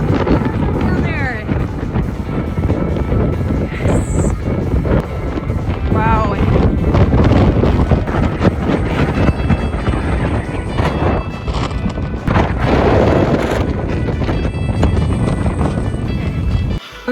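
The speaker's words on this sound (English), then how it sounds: "Okay, that is bone-chilling wind." Strong, bone-chilling wind roars across the microphone in Nevado Tres Cruces park, Chile, a loud, continuous rumbling buffet that never lets up, with muffled voices faintly beneath it.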